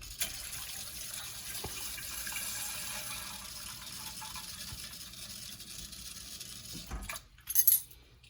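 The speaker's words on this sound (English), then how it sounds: "Now to this I'm going to add cold water." Cold water runs from a tap over cleaned mussels in a bowl, a steady low hiss of flowing water that ends in a short, louder splash and clatter near the close.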